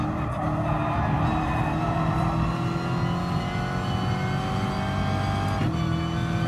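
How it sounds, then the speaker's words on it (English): A blue Subaru race car in Gran Turismo Sport slides and skids mid-race, its engine roaring steadily with squealing tires layered over a dense mix of other cars running close by. "Subaru slides out a little"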